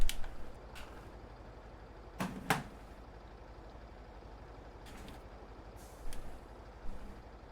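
Air brakes on a logging lorry in MudRunner hiss in sharp bursts, two close together early on, then a few fainter releases, over a low steady engine rumble with no talk.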